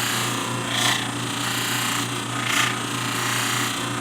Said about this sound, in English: we move on to the white diamond wheel, which is even finer